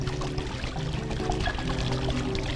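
Water from a waterfall kit pours and splashes steadily into a patio pond, a continuous close, loud gushing wash with no talk.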